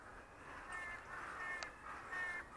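Crows cawing outdoors in cold, wet English weather at sunrise, a few faint, distant caws spread across a steady background hiss.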